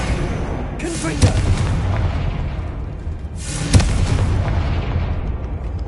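Two deep booming blasts about two and a half seconds apart, a game spell explosion effect, each a sudden burst fading into a rumbling roar over continuous loud low background noise.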